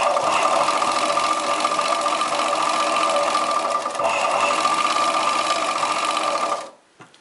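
An electric sewing machine stitches chudidar pants in one steady, fast, whirring run for several seconds, close and loud, then stops abruptly.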